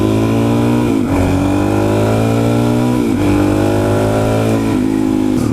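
A 2017 Suzuki DRZ400SM supermoto single-cylinder engine under way, loud and close, rising in pitch through each gear before dropping at three shifts, with no voices.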